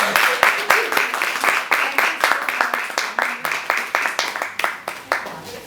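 An audience at a parenting talk applauds: a close, steady run of many hand claps that keeps an even pulse for several seconds.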